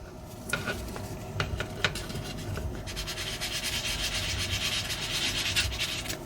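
Sanding unprimed acrylic paint by hand: quiet, scratchy rubbing strokes, a few sharper scrapes early on, then a steadier, denser abrasive hiss, close and alone.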